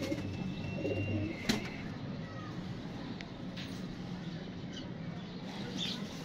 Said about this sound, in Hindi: ये भी कलंदरी कबूतर है